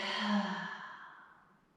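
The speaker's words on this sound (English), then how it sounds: "Inhale deeply. And exhale fully." A deep, drawn-out exhale out of the mouth during a gentle yoga flow, close and breathy, starting full and fading away over about a second and a half.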